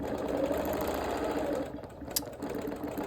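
A sewing machine hums and rattles at a steady, fast pace while ditch quilting a star quilt, then slows and softens near the end with a brief click, close and clear without talk.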